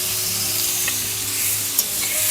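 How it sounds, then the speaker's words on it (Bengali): Cucumber stirred with turmeric in a hot pan gives a steady, close sizzle with soft scrapes and a couple of light clicks, and no voices. "হলুদটা দেওয়ার পর আর একটু নাড়াচাড়া দিয়ে নিলাম।"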